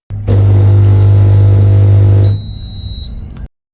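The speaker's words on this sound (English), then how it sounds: "This beep sound indicates that the machine is now ready for operating." A loud, steady machine hum cuts off, then a coffee machine's high electronic ready beeps ring out clearly for about a second before fading to quiet.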